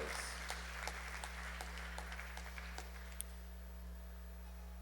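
Convocation audience at the University of Guyana gives a round of applause, scattered claps over a steady hum that thins and fades out toward the end.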